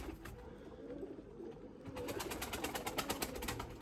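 Limoni breeding pigeons coo softly, with low murmuring calls turning into a run of quick repeated pulses toward the end, heard close and fairly quiet with no talking.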